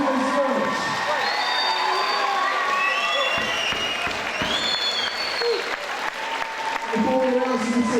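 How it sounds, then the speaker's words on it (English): Audience at a Contenders Norwich fight night applauding steadily after a bout, dense clapping from a large crowd with scattered cheers and whoops, with announcer speech heard over the noise. "Ladies and gentlemen, please put your hands together for one of the best fights we've ever seen here at Contenders Norwich."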